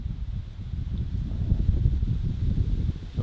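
Gusty wind stirs leaves in thick woods during a whitetail bow hunt, a close, continuous rushing rustle that swells and fades in waves.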